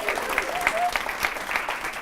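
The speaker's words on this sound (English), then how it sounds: "round of applause for Mindy." An audience at a live comedy speaking competition claps for a contestant, light scattered applause with distinct individual claps, fairly close, over a low murmur.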